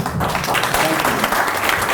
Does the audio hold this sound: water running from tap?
no